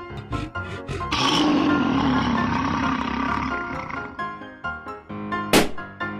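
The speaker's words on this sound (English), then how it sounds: "Monkey." Cartoon monkey in a children's animal slide game: a few short chattering calls, then a long harsh roaring screech, followed by scattered grunts and a sharp squeal, all loud and close.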